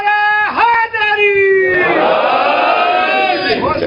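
After a single voice calls out the Naara-e-Haidari slogan, a large crowd answers with a loud, sustained group shout that swells and holds.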